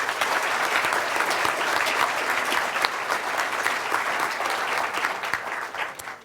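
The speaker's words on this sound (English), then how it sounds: "Can we please have a round of applause?" A crowd at a ratepayers' mayors event gives a sustained round of applause, dense and even clapping filling the room from start to finish without any talk.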